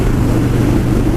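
A brand-new 2017 Harley-Davidson Road King motorcycle riding, a loud, steady low engine rumble mixed with wind roar that fills the brief moment without a break.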